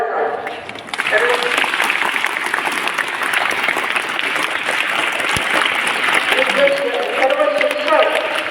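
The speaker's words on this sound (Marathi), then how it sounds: "पहिल्यांदा तुम्ही तुमच्या शाळेसाठी एक जोरदार टाळ्या वाजवा." Loud, sustained applause from a crowd gathered at a primary school Women's Day event, a dense steady wash of clapping that starts after a brief quieter moment and carries on throughout, with a voice briefly audible near the end.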